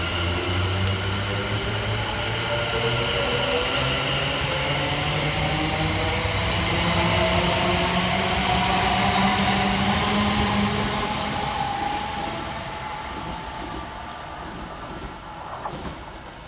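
West Midlands Railway Class 730 units 730.018 and 730.010 in Pride livery pass through Barnt Green station on the Bromsgrove to Lichfield Trent Valley service: a loud, steady rolling rumble with shifting motor whine that eases off near the end.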